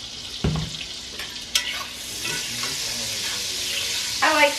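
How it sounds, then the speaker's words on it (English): Butter stirred as it browns in a hot pan, a steady soft sizzle with a few scraping stirs and utensil clinks, close and alone. "Had to stir the butter up a little bit. It's starting brown, but I want it to brown evenly."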